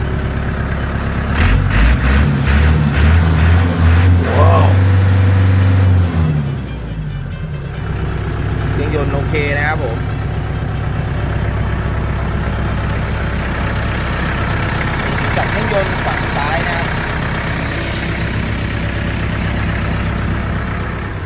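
A heavy diesel engine of a used 2017 Iseki 54-horsepower four-cylinder tractor starts with a low chugging burst, then settles into a steady, loud idle that runs on without talk.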